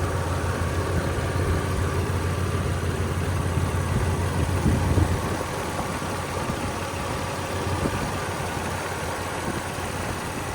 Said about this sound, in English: let's listen to the engine first